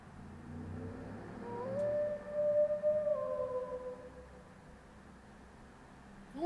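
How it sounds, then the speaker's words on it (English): A wolf companion in the video game Final Fantasy XVI lets out one long, faint, rising and falling howl over a quiet low ambient background. "Oh, I've never heard Torgal howl before."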